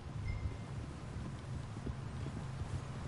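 Horse hooves clip-clopping on the ground in the video game Red Dead Redemption 2, an even walking rhythm of muffled thuds under a faint windy rustle, with no talk.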